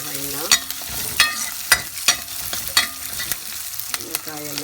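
Onion, garlic and green chilli sauté in a pan for a vegetable kuzhambu, with a close, bright sizzle broken by a regular series of sharp spatula scrapes and knocks, and a soft musical tone underneath.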